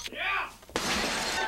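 A Sanyo VHS VCR is smashed with a loud crash and shattering of breaking plastic and glass. A voice shouts just before the heavy impact.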